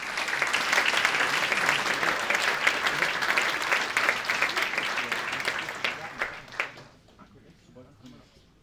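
Loud, dense applause from a ceremony audience at a school key-handover celebration after a renovation of a technical college in Villach, steady for several seconds before thinning into scattered final claps and fading out.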